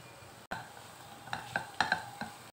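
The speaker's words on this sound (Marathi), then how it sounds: "या भाज्या मी थोड्या परतून घेतलेल्या आहेत" Potatoes and zucchini stir-fried in a pan, faint sizzling with a few sharp spatula scrapes and metallic clinks against the pan, quiet and close.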